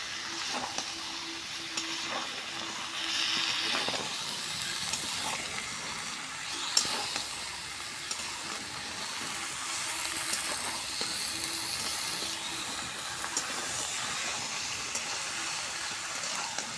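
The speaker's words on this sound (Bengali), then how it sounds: "এবার মশলার সাথে সুন্দর করে নাড়াচাড়া দেওয়া হচ্ছে দেখুন।" Vegetables being stirred into spices in a hot pan while cooking Bengali mixed-vegetable curry with pangas fish, with a steady sizzle and hiss, occasional scraping stirs, continuous and fairly close.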